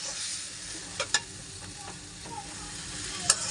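Potatoes and meat fry in a hot spice paste with a constant steady sizzle and a few sharp clinks and scrapes of stirring, heard close up with no talking.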